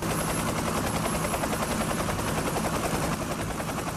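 A special forces helicopter hovers above a drop zone, its rotor a loud, continuous, rapidly pulsing roar that fills the whole stretch.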